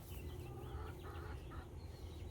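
Young rooster clucking softly while being handled, a few short low clucks over faint background noise, fairly quiet overall.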